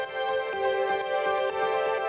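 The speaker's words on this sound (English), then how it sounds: "And I've laid that with this piano." A sustained synth pad layered with piano in a melodic house and techno track, forming a steady bright chordal wash with soft repeated note onsets, loud and alone with no voices.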